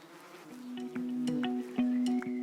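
Honeybees buzzing around a beekeeper's hives in Champagne, close and fairly loud, several insects droning at shifting pitches as they fly past.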